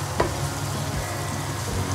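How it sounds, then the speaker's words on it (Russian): Meatballs sizzle and fry steadily in a pan, a dense continuous crackle with a brief stir near the start, close and alone with no talk. "Смотрите, как оно у нас хорошо жарится."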